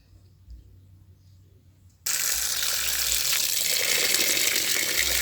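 Quiet room tone for two seconds, then a tap suddenly opens and water gushes steadily and loudly over fresh squid being washed, splashing close by.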